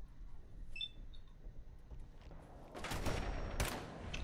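Gunfire in Fallout 4 arrives as a quick burst of sharp reports near the end, preceded by quieter ambient noise and a few faint chirping electronic tones; fairly loud at its peak, no talk.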